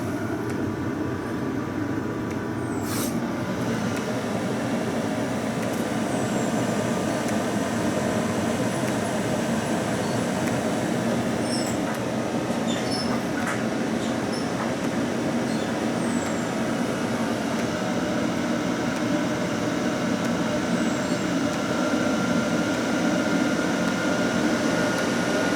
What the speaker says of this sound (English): what we'll get is the pump will speed up a bit, the fan will speed up a bit